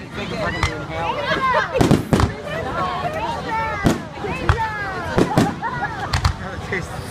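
Fireworks bursting over Rehoboth Beach: repeated sharp booms and crackling pops in irregular succession, with whistling rising streaks and a crowd chattering throughout.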